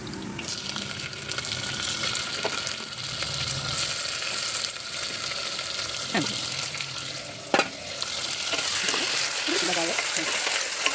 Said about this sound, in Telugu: అందుకనేసి కాకరకాయ కూడా వేసేసి వేగిస్తాం.